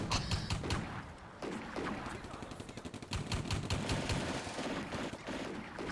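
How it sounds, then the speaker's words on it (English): Half-track autocannon firing during a battle in the Combat Mission: Barbarossa to Berlin war game, rapid repeated bursts of shots in quick rhythmic strings over a steady background of distant gunfire. "You can hear that autocannon, can't you, off that half track?"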